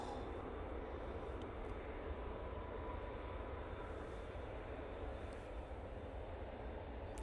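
An airliner takes off at Manchester Airport on a windy day, a continuous broadband engine roar heard from a distance, steady and fairly loud throughout with wind noise mixed in.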